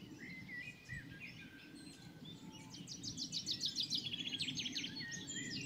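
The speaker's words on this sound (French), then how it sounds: "il y a plein d'oiseaux qui sortent parce qu'il fait beau" Several wild birds sing outdoors on a fine spring day, with faint scattered chirps rising to a brighter, rapid trilling song in the distance over quiet background ambience.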